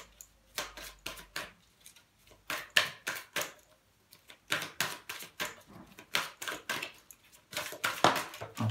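Tarot cards are shuffled close up in a series of crisp, rapid riffling bursts and flicks, fairly quiet, with short pauses between shuffles and no talking.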